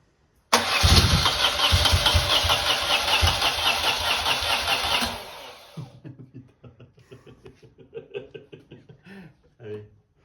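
A BMW R80 R motorcycle's starter cranks in a loud, rhythmic chugging run for about four and a half seconds with the clutch pulled in, then stops abruptly, leaving quieter clicks and handling sounds.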